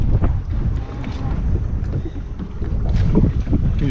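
Strong wind buffets the microphone on a small fishing boat out on the water, a loud rumbling roar that surges and eases over a few seconds with no talking.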